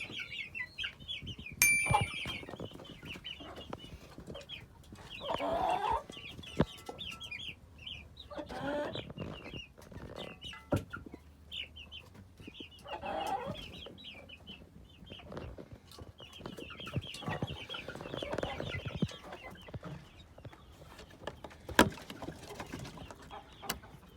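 Several chickens cluck on and off at a distance in a backyard coop, soft repeated calls mixed with rustling and scattered clicks.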